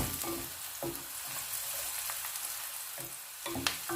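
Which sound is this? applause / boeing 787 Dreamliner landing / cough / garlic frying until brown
garlic frying until brown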